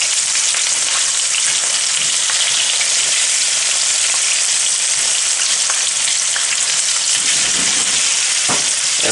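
Potatoes for French fries frying in a very hot pan, a dense, loud, unbroken sizzle running throughout, with a few faint knocks near the end as the pan is shaken.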